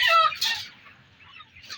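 Chickens in a broiler poultry shed give short, nearby clucks and squawks in a quick burst that then trails off to quieter sounds.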